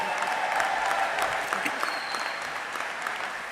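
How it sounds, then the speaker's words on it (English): A convention hall full of educators at the 2023 NEA Representative Assembly applauding, a dense steady clatter of clapping that slowly eases off toward the end. "our educators from Florida, a round of applause"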